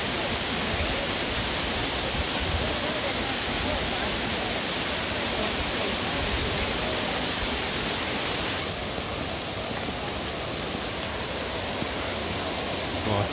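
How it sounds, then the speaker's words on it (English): A small waterfall in Takachiho Gorge, Japan, pours with a constant loud broadband rush of falling water, unbroken and close throughout. "Oh, there is a small waterfall here."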